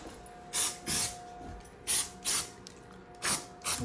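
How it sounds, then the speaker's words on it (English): Multi-Solve is sprayed onto fresh bath sealant in six short, crisp hissing bursts that come in pairs, close up and quiet, with no talking. "you spray it with a multi-solve"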